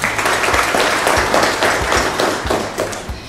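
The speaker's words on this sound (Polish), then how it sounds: "Serdeczne brawa." Audience at a school district knowledge contest about John Paul II applauds in a loud, steady burst of clapping that slowly fades toward the end.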